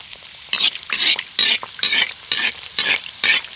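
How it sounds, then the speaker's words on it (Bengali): Rice-flour batter snack frying in hot oil in a wok, stirred in seven regular bursts of scraping and bubbling sizzle, close and fairly loud, with no voices. "আর এইভাবে তেলটা নাড়িয়ে নাড়িয়ে ভালো করে মানে ভেজে নিতে হবে এটাকে"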